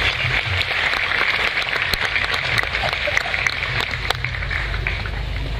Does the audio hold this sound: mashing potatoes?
no